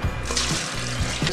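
Water poured steadily into a Compact Cook Elite multicooker for risotto, a continuous close splashing rush with no talk.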